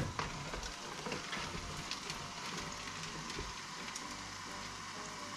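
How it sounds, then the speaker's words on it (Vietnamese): A pot of water at a hard, rolling boil for cooking rice noodles gives a steady, dense bubbling hiss with faint crackles, close and continuous, without any talk. "mình đem qua mình cái nồi nước của mình nó sôi dữ lắm rồi"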